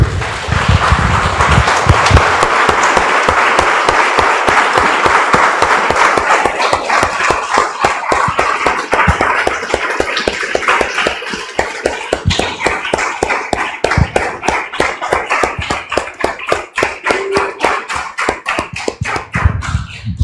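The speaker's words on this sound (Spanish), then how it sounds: "Damos un aplauso, hermanos, al Señor." A church congregation claps for the Lord, loud sharp handclaps that settle into a steady rhythmic beat, close and continuous for a long stretch.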